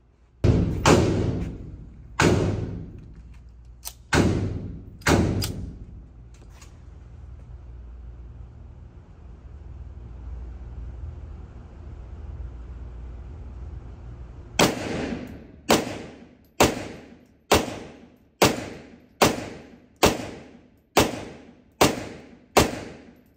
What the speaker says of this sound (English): One of the guys at the range shooting 10 rounds.